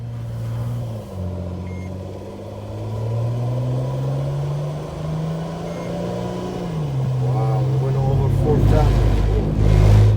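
A 2007 Mercedes Sprinter van with no muffler and no particulate filter idles and then revs, its engine note climbing and holding before dropping back, close and fairly loud, with a deeper rumble near the end.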